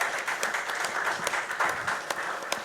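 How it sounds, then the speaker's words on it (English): Applause from a small audience at a Bahama Bucks shaved-ice shop during a live podcast recording, a steady dense patter of clapping with a few sharper claps standing out, fairly close and continuous. "Let's get a big round of applause for our hosts here"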